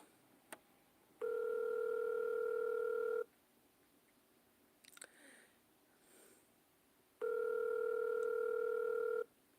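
A telephone ringback tone sounds twice as a call goes through, each a steady two-second electronic tone separated by several seconds of quiet line with faint rustling and a brief click.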